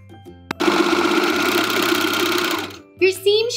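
A serger sewing machine stitching two layers of fabric runs in a steady, loud mechanical whir for about two seconds, then stops, with a voice speaking just after.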